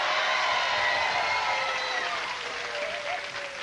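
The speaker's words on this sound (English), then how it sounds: "Audience, applaud if you think they were successful." Studio audience applause during a 1991 television game segment, steady dense clapping that fills the whole stretch and eases slightly toward the end, with no talking over it.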